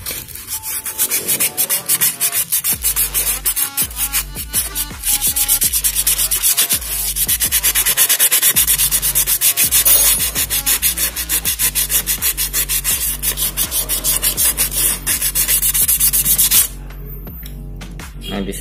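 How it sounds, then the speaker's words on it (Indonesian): Sandpaper rubbed by hand over a piston and engine part from a BMW E90 during an overheating overhaul, a close, loud, rhythmic scratching in quick repeated strokes that stops abruptly near the end. "Amplas juga di bagian permukaan sini."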